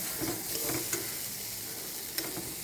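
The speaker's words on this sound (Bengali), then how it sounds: "কড়াইয়ে তেল দিয়ে কাঁচা লঙ্কা চিড়ে ওলটাকে মশলাতে দিয়ে আস্তে আস্তে হালকা মিডিয়াম আঁচে ভাজতে হবে।" Elephant foot yam and slit green chili frying in spiced oil in a karai over medium heat, giving a steady close sizzle with a few soft stirring scrapes.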